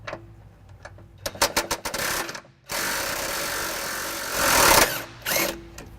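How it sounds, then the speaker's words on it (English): An impact wrench with an 18mm socket rattles in short bursts, then a longer steady run, as it backs a frame bolt out of a 2012 Jeep Liberty before a trailer hitch goes in. The tool is close and loud and nobody talks. "I'll be using an impact and an 18mm socket"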